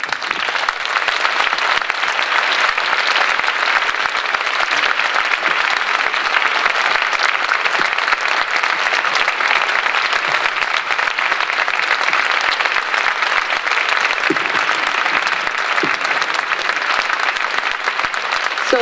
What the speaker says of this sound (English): So this is your applause.